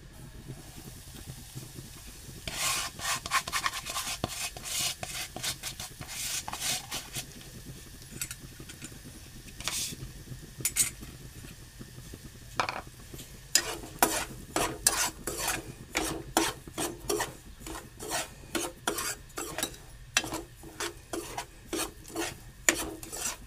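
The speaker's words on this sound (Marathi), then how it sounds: "हा आता रवा मी भाजत आहे." Semolina (rava) being roasted in a pan, a soft dry scraping and rasping as a spoon stirs the grains, with quick gritty strokes growing busier and more rhythmic, close and fairly quiet, no talking.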